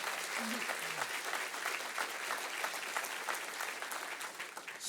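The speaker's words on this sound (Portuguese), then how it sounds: "Vamos louvar Jesus com as nossas palmas" Church congregation clapping in praise to Jesus during a worship service, dense continuous applause filling the room at a distance, with a brief voice early on.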